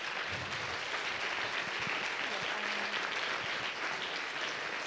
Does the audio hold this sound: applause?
yes